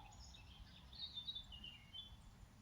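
Birds sing outdoors with faint, high chirps and short twittering phrases, fairly distant, over a soft low background hum.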